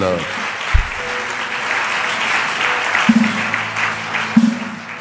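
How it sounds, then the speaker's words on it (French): Church congregation applauding during a Sunday worship service, steady loud clapping throughout with a voice speaking briefly over it. "on peut acclamer cette parole"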